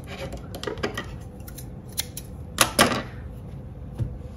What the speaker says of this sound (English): you're going to cut it off and leave yourself a tail